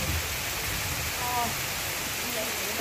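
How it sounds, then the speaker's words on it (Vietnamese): Heavy rain pours steadily as a dense, constant hiss around an off-road vehicle in muddy Central Highlands conditions, close and continuous with no break. "càng lúc càng mưa to đây"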